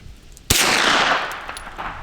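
A Henry Homesteader 9mm carbine fires outdoors toward an 80-yard target, a single loud, sharp crack followed by a long echoing tail that slowly fades.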